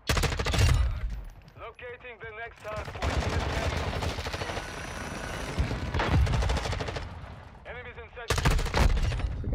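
Rapid gunfire from a Modern Warfare 2 match, with repeated loud shotgun blasts and bursts of automatic fire. Dense layered firefight noise runs throughout, mixed with game sounds and occasional talk.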